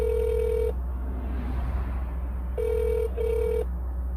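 A telephone rings in repeated electronic bursts that go unanswered, with a steady hum and background noise running between the rings.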